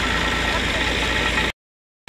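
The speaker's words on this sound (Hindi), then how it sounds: "और ये ट्रैक्टर है 240 मैसी" A Massey 240 tractor engine runs steadily at a village sugarcane crushing setup for making jaggery, a loud continuous low rumble that cuts off abruptly before resuming briefly at the end.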